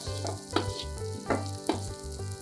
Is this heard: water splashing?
no